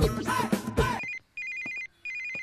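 Telephone ringing in a Tamil film scene, with repeated electronic rings in short bursts separated by brief gaps, following a burst of loud dialogue at the start.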